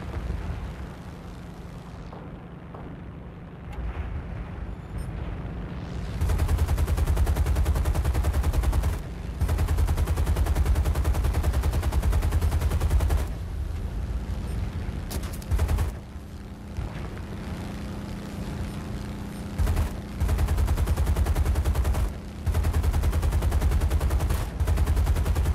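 A machine gun strafing run by an aircraft in the combat game War Thunder: long, loud bursts of rapid fire over a low engine drone, broken by short pauses, close and with no speech.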